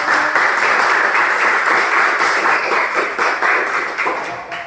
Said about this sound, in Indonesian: Beri aplaus buat kelompok satu.